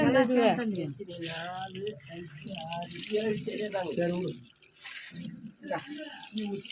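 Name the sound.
water being poured in a ceremony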